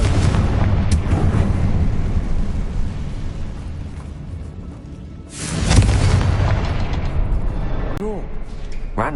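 Confringo fire spell blasts in Hogwarts Legacy, heavy booming explosions layered over continuous game noise, with a big burst near the middle and sharp impacts toward the end.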